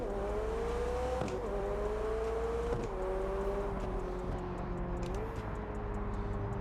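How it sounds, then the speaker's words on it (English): A car in a racing video game accelerates at full throttle, its engine note climbing steadily with brief dips at each gear change, loud and continuous with no talk. "That's a green light. We'll floor it."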